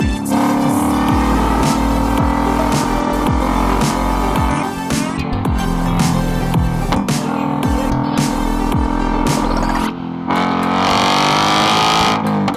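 Loud, raspy exhaust note from a 2024 Mustang fitted with an MBRP resonator delete, revving and pulling through repeated shifts with deep rumbling drone throughout.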